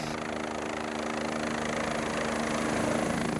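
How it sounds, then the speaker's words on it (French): A mountain rescue helicopter on a high-mountain rescue mission makes a steady, loud engine and rotor drone with a constant whine and low rhythmic thrum that holds throughout without a break. "Finalement, l'hélicoptère a réussi à passer."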